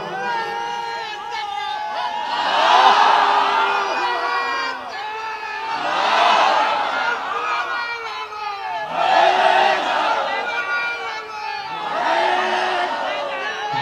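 Crowd at an outdoor Islamic sermon gathering roaring the takbir in four loud, swelling waves of massed voices, each surge a few seconds long with brief dips between.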